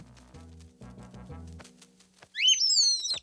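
A cartoon baby bird gives a quick run of bright, high chirps, loud and close, after a stretch of soft, low tones.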